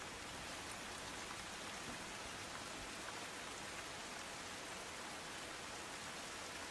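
Steady rain falls in Banaskantha district, Gujarat, a soft, even hiss with no breaks, faint and distant-sounding, and no voices.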